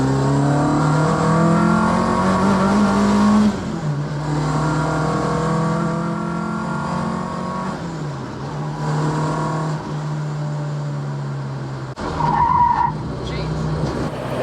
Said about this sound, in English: The car wouldn't lock up like that with the old brakes